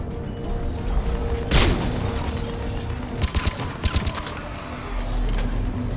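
Gunfire from the video game Mass Effect 3: one sharp loud shot, then a quick cluster of several reports a couple of seconds later, over a low background rumble.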